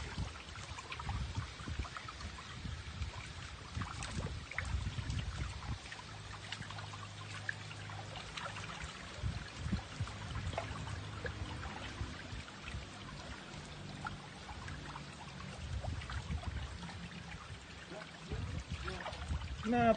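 New brackish water flows into a milkfish pond, a steady pouring and trickling wash with low rumbling undertones, moderately faint and continuous without talk.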